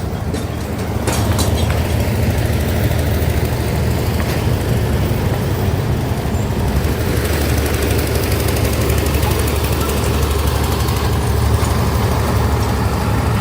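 Diesel locomotive idling at the Semboro sugar factory, a loud, steady low rumble and clatter continuing throughout, close by with no talking.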